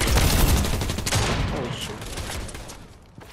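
Rapid SMG gunfire in a multiplayer shooter video game, a dense burst of loud shots that tapers off over a few seconds, with voices faintly in the mix.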